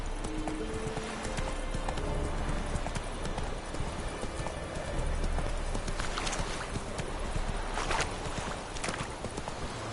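Horse hooves of Roach, the mount in The Witcher video game, clip-clopping steadily at a walk over a busy ambient background, with a brief whinny and no talk.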